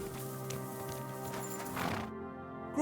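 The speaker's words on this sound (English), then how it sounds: "Lovely horses you have here." Horses in a stable in the video game Kingdom Come: Deliverance II, with soft hoof shuffles and snorts over a steady bed of ambient music and noise, and a brief louder scuffle near the end.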